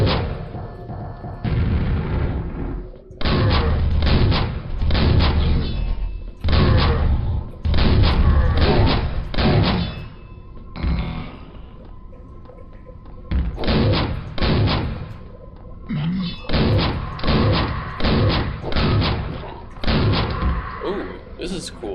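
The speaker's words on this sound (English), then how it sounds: "And then you have this as like your super shotgun." Heavy booming shotgun blasts from the super shotgun in Quake ring out repeatedly and loudly in irregular bursts, with short gaps between them.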